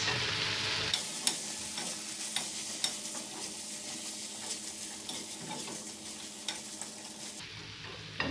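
Roast plantain stuffing mixed with sour lime in a bowl, a close wet stirring and scraping with rhythmic spoon knocks against the dish, steady and moderately quiet, no talking.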